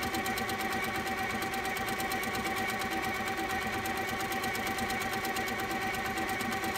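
A sit-down sewing machine runs nonstop during free motion quilting, a fast, even, close mechanical stitching rattle that holds steady throughout with no voices.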